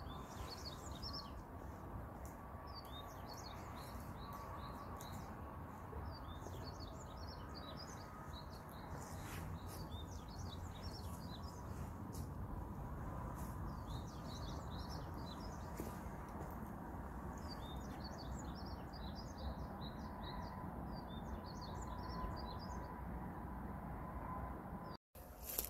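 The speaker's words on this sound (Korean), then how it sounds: "새소리가 어디서 들리지?" Small birds chirp and sing in repeated bursts along a mountain hiking trail on Chilbongsan in Gangneung, Korea, faint and somewhat distant over steady outdoor background noise.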